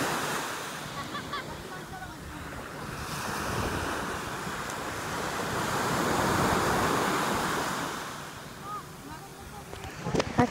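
Seaside ambience with waves washing in and out, a broad continuous roar that swells and fades, with wind buffeting the microphone and a few brief bumps near the end.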